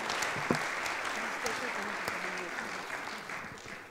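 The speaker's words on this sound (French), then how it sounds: "on peut vous applaudir" Sustained audience applause at a launch event, a dense steady wash of many hands clapping at moderate distance, with faint voices underneath throughout.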